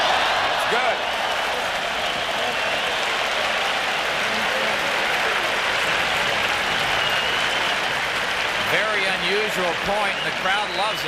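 Tennis crowd applauding a point during a 1984 broadcast match, a broad sustained wash of clapping that fills the whole stretch, with cheers rising near the end and a commentator's voice heard briefly.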